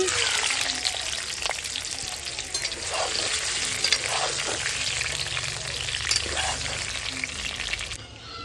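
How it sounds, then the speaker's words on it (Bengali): Potatoes sizzle and crackle loudly in hot oil, a dense steady frying hiss with occasional stirring scrapes, close up and continuous. "তেল দিয়ে দিচ্ছি আলু ভাজার জন্য"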